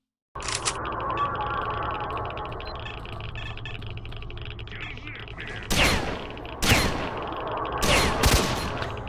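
Gunfire rings out during a firefight in the video game S.T.A.L.K.E.R. A quiet stretch of ambient rumble gives way to several loud, sharp bursts of shots near the end, with no talk.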